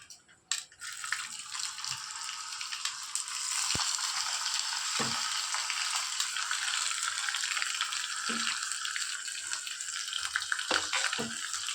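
Chana dal, curry leaves and dried chillies frying in hot oil, a steady close sizzle and crackle with a few sharp pops scattered throughout.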